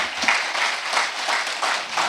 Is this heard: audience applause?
yes